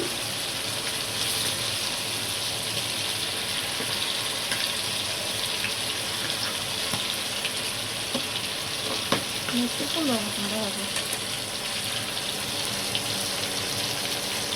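Chicken chaap pieces fry in a pan with a steady, close, loud sizzle and hiss that runs the whole time, with a few soft clicks as the pieces are turned.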